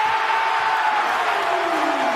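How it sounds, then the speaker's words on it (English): Basketball arena crowd at a Toronto Raptors home game against the Wizards, a steady loud roar of cheering that swells slightly as fans rise, dense and continuous with no single voice standing out. "Crowd rising to its feet."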